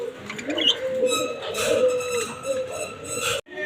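Ringneck doves kept as caged pairs at a bird seller's coo repeatedly in soft rolling calls, close by, with someone talking over them throughout.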